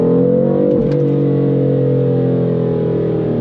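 A 2015 BMW M3 sports sedan's engine holds a loud, steady drone with a brief dip and surge near the start, then runs on evenly and close.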